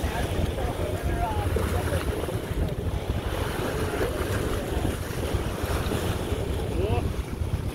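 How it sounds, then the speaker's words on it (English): Sailboat moving fast through waves, steady rushing water and wind buffeting the microphone, a constant loud wash with no clear breaks. "Pretty swift for a sailboat."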